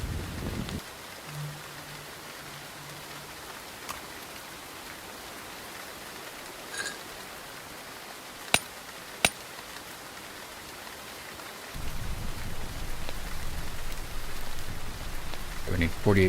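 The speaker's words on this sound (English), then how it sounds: "Does sound like it's going to rain today as well." Rain falls steadily in the video game Ember's Verge, a constant soft hiss that swells louder near the end, with a couple of sharp clicks partway through and no talking.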